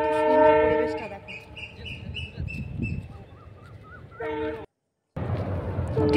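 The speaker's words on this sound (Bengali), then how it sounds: "ট্রেন যাচ্ছে, ট্রেন।" Evening train passing near a rail bridge, horn blasts opening and returning later over the rumble of carriages, loud and close, with birds chirping in the background.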